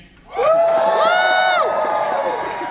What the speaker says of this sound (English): give me a cheer if you purchased the ticket for this evening